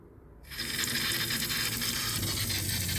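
Water pump in a camper van switching on with a sudden onset and running steadily as water flows from the faucet, a continuous close mechanical whir mixed with rushing water.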